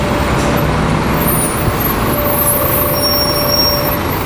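A Scania K360 bus with Irizar i6 bodywork rolls along the road outside the factory, a loud, steady broadband engine and road rumble filling the whole stretch with a faint high hiss on top.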